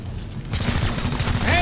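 Rapid video game gunfire from XCOM Chimera Squad, a dense continuous burst of shots starting abruptly after a brief lull, loud and sustained with a rising whine at the end.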